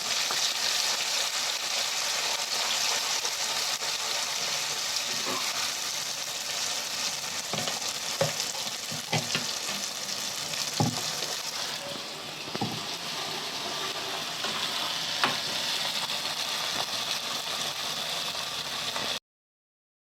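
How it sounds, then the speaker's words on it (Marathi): Masala paste and home curry leaves frying in hot oil for a Malvani surmai fish curry, a steady loud sizzle with scattered crackles and stirring scrapes, cutting off abruptly near the end. "तेलात चांगल्या प्रकारे मसाला भाजून घेऊया."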